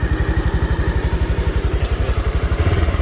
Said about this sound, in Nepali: बाइक स्टार्ट भएन जस्तो छ